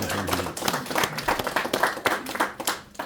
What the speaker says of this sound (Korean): 박수 한번 넣어주세요